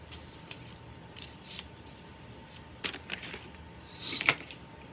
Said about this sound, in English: So let's do some trimming here.